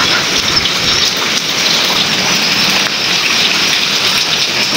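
Heavy rain from Typhoon Paulo under signal #3 in Isabela pours down in a dense, constant hiss, with wind mixed into the steady wash of water throughout.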